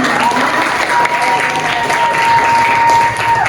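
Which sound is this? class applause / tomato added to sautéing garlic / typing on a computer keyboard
class applause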